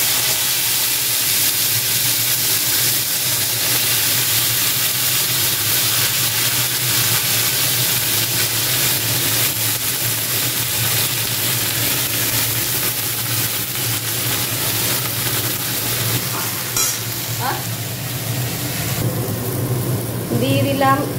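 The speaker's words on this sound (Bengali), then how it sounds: "সেই সবজিগুলো এবার দেব, দিয়ে একটু" Vegetables hitting a pan of hot oil tempered with cumin seeds, giving a loud, steady sizzle that holds for the whole stretch, with faint clatter toward the end.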